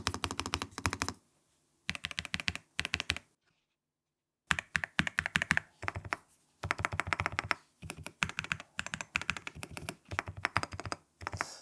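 Close, clacky typing on a NuPhy Gem80 mechanical keyboard, including its ghost space bar, comes in quick bursts, with brief pauses and one longer silence between runs of keystrokes.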